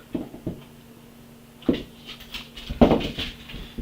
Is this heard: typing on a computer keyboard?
no